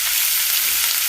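Garlic frying in a pan for pork binagoongan with eggplant, a steady broadband sizzle that holds evenly throughout, close and fairly loud, with no voices.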